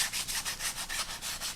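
A sanding block rubs back and forth across the wooden ribs of a model airplane wing, making a steady, close, rhythmic scrape of about eight even strokes.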